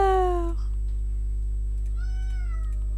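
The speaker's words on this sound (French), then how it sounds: "Dors là, mon chat. Ouais. Bah ouais, tu pleures." A cat meows twice indoors: a loud, drawn-out, falling meow at the start and a softer, wavering one about two seconds later, both over a steady low electrical hum, with no talking.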